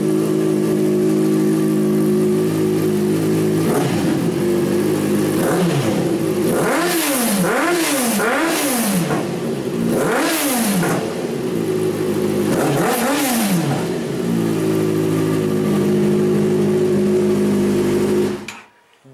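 A car engine fitted with a new aftermarket exhaust idles loudly up close, then gets blipped through several sharp rising-and-falling revs before settling back to a deep burble and cutting off abruptly at the end.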